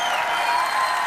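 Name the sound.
audience applause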